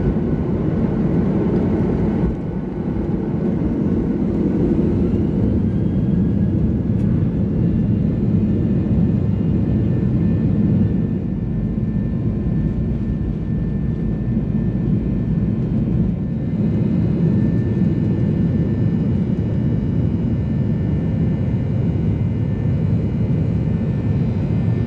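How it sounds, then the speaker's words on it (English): Virgin Australia Boeing 737-800 jet on its takeoff roll, heard from inside the cabin as a loud, steady, broadband engine roar with a low rumble that holds for the whole stretch. "Cabin crew reset for takeoff."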